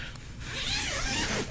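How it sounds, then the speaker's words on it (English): A zipper slides open along a zippered waterproof mattress encasement, giving one smooth, close rasp that lasts just over a second over a soft fabric rustle. "Now, we're gonna unzip it."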